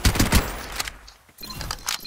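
Rapid bursts of gunfire from a battle-royale-style video game crackle in quick clusters, loud at first, dropping briefly to near silence, then returning for a few shorter shots.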